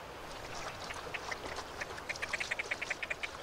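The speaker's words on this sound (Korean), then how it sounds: "둥지를 향해 부지런히 헤엄쳐가는 주인공은 바로 뿔론 병아리입니다." A great crested grebe calls on a farmland wetland near a floating nest of water plants, a faint series of short, rhythmic nasal notes that grows into a quick repeated sequence over quiet background.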